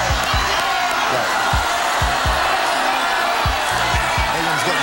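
Studio audience at the Power of 10 game show finale cheering and whooping, a steady loud roar of crowd noise throughout with thumping beats underneath.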